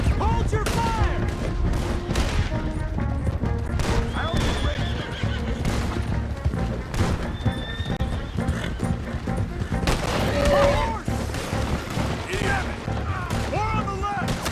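Gunfire in Red Dead Redemption 2 during a shootout, near-continuous volleys of rifle and pistol shots mixed with horses neighing and hooves, while characters shout over the chaos.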